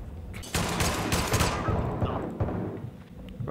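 Rapid bursts of gunfire crackle through a video game duel, loud and dense for about two seconds and then tapering into scattered shots and echo.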